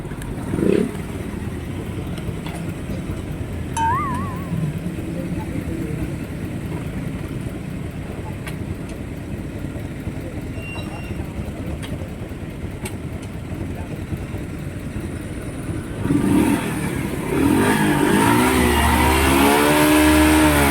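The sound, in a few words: road traffic with motorcycles and cars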